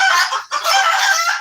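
Laying hens cluck close by in a steady run of sharp, nasal calls with a brief pause midway, and no one speaks.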